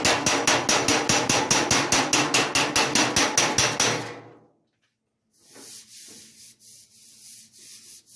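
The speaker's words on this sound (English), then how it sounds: "I'm going to take my hammer dolly and hammer those out first" Fast, steady hammer-and-dolly blows on a Ford Model A steel fender, about four per second, loud and close, then a pause followed by scraping and rubbing.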